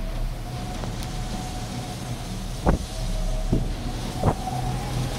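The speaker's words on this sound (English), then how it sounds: "the wind is blowing almost right at me" Strong wind blows outdoors almost straight into the microphone, a steady loud roaring rush with a low rumble and a few sharp buffeting thumps, no voices.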